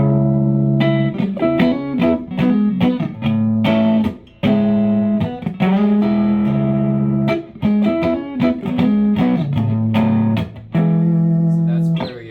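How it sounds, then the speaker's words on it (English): Electric guitar through a Lightkeeper overdrive pedal with its mid-range boost engaged, giving a light, gritty overdrive; loud, close chords and riffs played continuously with a few brief gaps. "So it definitely sounds more of like a light grit overdrive in this setting."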